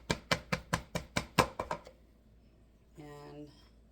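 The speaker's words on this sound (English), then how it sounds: "you're gonna just cream your cream cheese" A wire whisk beats softened cream cheese in a bowl, making about eight quick, rhythmic tapping strokes that fade out, followed after a pause by a brief voice.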